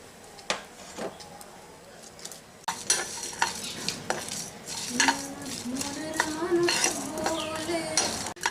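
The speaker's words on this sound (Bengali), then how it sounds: "এখন এগুলোকে শুকনো কড়াইতে ভেজে নেব" Dry whole spices, including white cumin, rattle and skitter in a dry pan as a spoon stirs and scrapes against metal, with sharp clinks and a faint sizzle.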